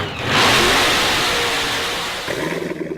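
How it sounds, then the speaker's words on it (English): A Chevrolet Corvette sports car engine revs up loudly and close by, surging to a sustained roar that slowly eases off, then drops into a lumpy, pulsing idle. "Do you hear that? That's the sound of America's only sports car."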